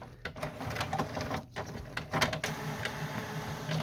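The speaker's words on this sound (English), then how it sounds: "we're going to press start on the printer to send the job through" An HP Deskjet F4440 printer with a paper mispick fault runs its feed mechanism, a faint whirring and clicking with irregular mechanical clacks and brief pauses, heard close and quiet.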